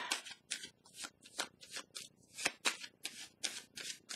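Tarot cards shuffled and handled in a quick, dry series of papery riffles and slaps, close and fairly soft, with no one speaking.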